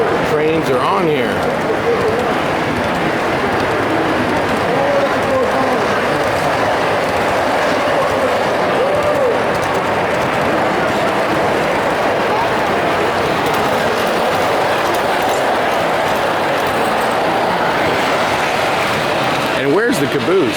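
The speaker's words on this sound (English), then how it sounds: "Oh, here comes the train." Model railroad trains run on a club layout at a train show, a steady rolling rumble that lasts throughout amid crowd chatter and voices talking nearby.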